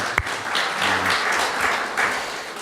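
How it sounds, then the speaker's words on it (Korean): A church congregation at a 15th anniversary Sunday service gives a loud round of applause to God, a dense, continuous wash of clapping with one sharp knock near the start. "우리 하나님께 큰 영광 박수 올리겠습니다"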